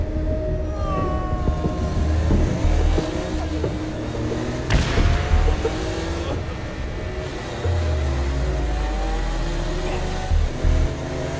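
A car cruises through Saints Row: Gat out of Hell with a steady low engine drone, swelling and shifting pitch, plus a sharp bang midway and a deeper rumble near the end, no talk over it.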